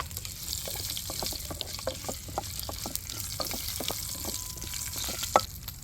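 Asafoetida tempering sizzles steadily in hot oil for rasam, with a run of sharp spoon-on-pan clicks as it is stirred through, no voices.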